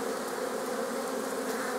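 Honeybees buzz and fly at the entrance of a hive in a Romanian apiary in late March, a dense, steady, fairly faint drone of many wings with no talk.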